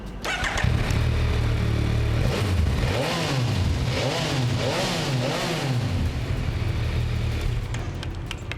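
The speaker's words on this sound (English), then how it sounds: "let's listen to how it sounds like." A Yamaha Tracer 9 GT sports tourer motorcycle engine, close and loud, idling and then blipped through repeated rising and falling revs before settling back.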